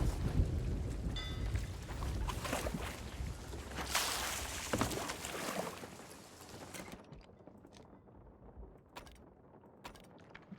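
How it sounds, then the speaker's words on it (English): Rain pattering on a wooden galleon's roof in the Sea of Thieves video game, a dense steady patter that thins out into sparse, separate drop taps toward the end. "the sound of the raindrop landing on the roof"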